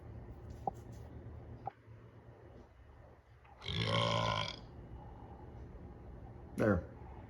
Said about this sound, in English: Astro, do you need to burp?